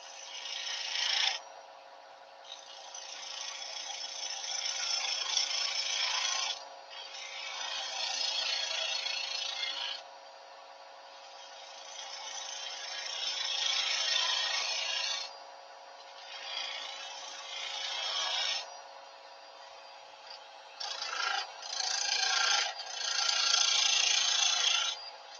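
Skew chisel cutting wood on a lathe, a steady rasping scrape in long passes broken by short pauses, close and fairly quiet over a constant motor hum.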